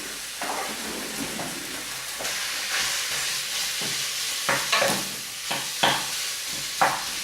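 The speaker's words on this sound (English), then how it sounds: "Get this mince going." Mince sizzles steadily in a hot pan for a cottage pie, with several louder scraping stirs and clatters of a utensil breaking through the constant frying hiss; no one speaks.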